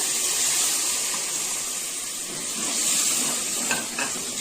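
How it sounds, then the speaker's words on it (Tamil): Tomato puree being stirred into channa (white chickpea) kurma frying in a pan, heard as a steady close hiss and sizzle with soft scraping of the spoon throughout. "தக்காளி சேர்த்து ஒரு முப்பது முப்பது செகண்ட் இந்த மாதிரி நல்லா கிளறி விடுங்க"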